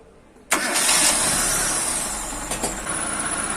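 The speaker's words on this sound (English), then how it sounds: "So I'm going to get the car engine started now" A Proton Saga Iswara engine cranks briefly and catches, then settles into a steady idle, loud and close with no talking.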